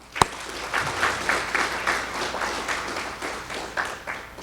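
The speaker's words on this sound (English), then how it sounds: "Will you all give that a round of applause?" Applause from a gathered crowd at the ribbon cutting for the West Memphis Municipal Court building, steady dense clapping that carries on throughout after one sharp near clap at the start.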